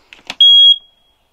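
A smoke detector in a camper van gives one loud, piercing, high-pitched beep lasting about a third of a second, preceded by a couple of soft clicks, close by and alone.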